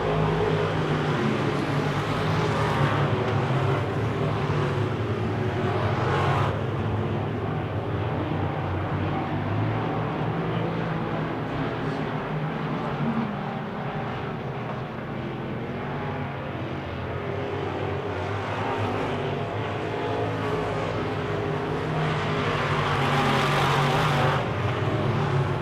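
Wissota Midwest Modified race cars roar around a dirt track in a continuous engine drone, with louder surges as cars pass close by at several points.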